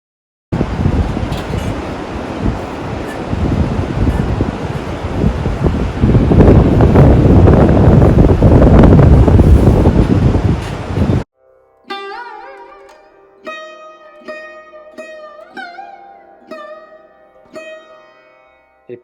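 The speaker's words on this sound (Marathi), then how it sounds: "वारा इतका वेगात वाहतोय." Strong wind buffets the microphone on a mountain trail near Everest, by a high suspension bridge, a loud continuous roaring rush for about eleven seconds that then cuts out.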